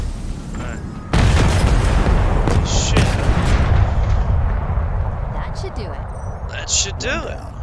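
Grenade blast in the video game Halo Infinite during a campaign raid, a sudden loud boom followed by sustained rumbling combat noise, scattered gunfire and further thuds throughout, with speech-like game chatter underneath.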